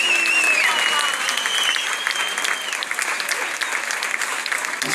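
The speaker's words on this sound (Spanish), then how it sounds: "Fuerte el aplauso." Audience applause at a social dance party, a loud, dense crowd clapping continuously throughout, with a few whistles cutting through near the start.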